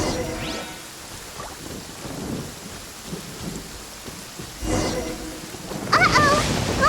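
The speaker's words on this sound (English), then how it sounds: "Lightning storm!" Thunderstorm with steady rain in the video game Genshin Impact, low rumbling thunder swelling in the middle and growing louder toward the end amid continuous rainfall.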